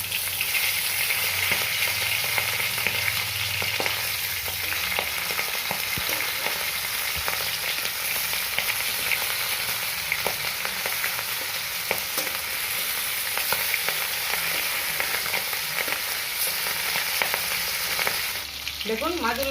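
Hilsa fish pieces fry in a little oil, giving a continuous close sizzle with scattered pops and crackles that holds for a long stretch with no voices.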